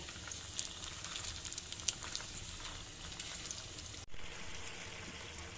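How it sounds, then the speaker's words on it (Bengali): Snacks fry in hot oil until golden red, giving a steady soft sizzle and crackle with scattered pops, moderately close and without talk. "এখন ভেজে নিচ্ছি এগুলো একদম লাল লাল করে ভেজে নেব"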